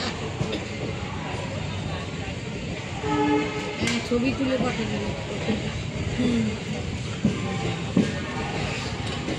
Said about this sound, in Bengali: হাওড়া ব্যান্ডেল লোকাল যে ট্রেনটি 9টা 25-এ ঠিকঠাক সময় মতোই ছেড়ে দিল 5 নম্বর প্ল্যাটফর্ম থেকে